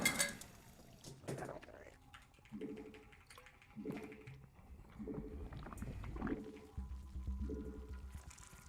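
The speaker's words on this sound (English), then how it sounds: "I drink some water as well." Water is poured in a few short gurgling bursts, followed by quiet gulps and clinks of a container, faint and close, with a little muffled movement between them.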